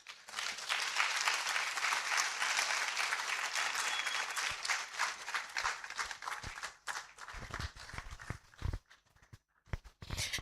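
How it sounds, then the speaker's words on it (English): A conference audience at a University of Cape Coast education event applauds after an address, with dense sustained clapping that thins out into scattered claps near the end. "I believe we can applaud him better."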